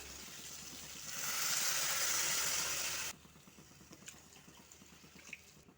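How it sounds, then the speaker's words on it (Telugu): A brief pour of water from a glass splashes into a pot for about two seconds, then stops, leaving quiet room noise and a few faint clinks. "దీంతో అయితే రెండున్నర గ్లాస్ వాటర్ అయితే పోస్తాను"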